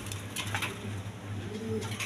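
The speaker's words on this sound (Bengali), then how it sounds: "দর্শকবৃন্দ এখানে এক পেয়ার কবুতর আছে, দেখেন তো এই পেয়ারটা রানিং পেয়ার" A pair of Lahori pigeons coos softly and steadily at close range, low rounded calls repeating over a faint constant hum, with no one speaking.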